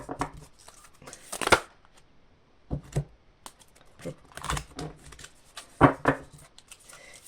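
Tarot cards are shuffled and drawn by hand, heard as irregular bursts of papery riffling and soft slaps with brief pauses between handling.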